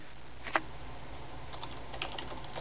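Faint, sparse keystrokes on a computer keyboard, a few soft clicks with one sharper tap over a steady low background hum, no voices.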